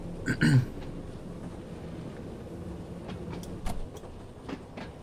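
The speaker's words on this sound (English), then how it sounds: "See the train jerk as well when you do go over one of them joints where it's not electrified in the rail gap." A train running on the Isle of Wight route in Train Sim World 2 rumbles steadily over the rails, with a couple of clunks from rail joints and a faint hiss, at moderate level.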